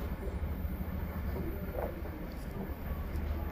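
A long freight train of over 200 cars rolls past with a steady, dense low rumble and rattle of wheels on rail, heard from trackside without breaks.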